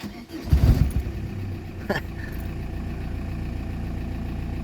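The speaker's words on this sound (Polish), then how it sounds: "Silnik pracuje równo." A diesel 1.9 TDI AFN engine cranks briefly and catches on its first start after a broken timing belt, then settles into a steady low idle that continues to the end.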